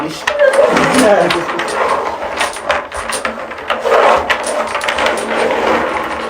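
Dominoes shuffled by hand across a table during a game, a busy clatter of clicking, knocking tiles sliding and bumping together, fairly close and loud, with people talking over it.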